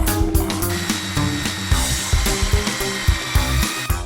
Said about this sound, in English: Final shaping of the handle is done at the disc sander and the belt sander.